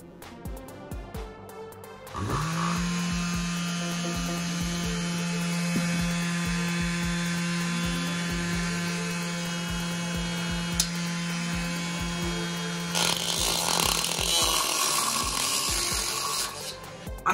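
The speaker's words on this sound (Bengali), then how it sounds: "চলো আরো একটা ফুটো করে দেখি।" A homemade mini drill built from a 775 DC motor spins up and bores a hole, giving a steady high whine with a rattling, ratchety mechanical edge that grows harsher near the end as the bit bites.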